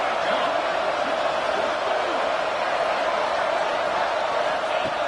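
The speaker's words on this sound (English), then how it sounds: "here comes the noise. This crowd is trying to inspire this defense to make a big red zone stop." Football stadium crowd roaring to push the home defense toward a red zone stop, a steady, loud wash of massed cheering and noise holding level throughout, with no single voice standing out.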